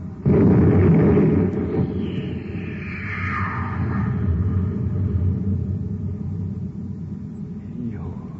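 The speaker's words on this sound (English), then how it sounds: "All right, Happy. Fire the torpedo." Radio drama sound effect of a cosmic torpedo gun firing aboard a space patrol ship: a loud, sudden rumbling blast that swells into a long roaring whoosh and rolls on for several seconds, with no voices over it.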